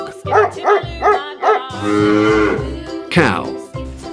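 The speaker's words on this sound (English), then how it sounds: "Cow." A cow lets out a long, loud, drawn-out moo up close, preceded by several quick dog barks and followed by a shorter call.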